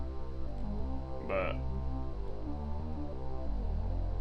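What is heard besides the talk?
VCO mono synth bass line with EQ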